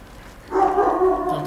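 A dog in the video game Horizon Zero Dawn gives a short, fairly close burst of barking and yelping that starts suddenly and holds for about a second, with no talk over it.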